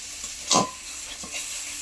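Spice paste for a river fish curry sizzles and fries in hot oil in a pan, with a single louder stir-and-scrape burst near the start and softer stirring later, close and steady.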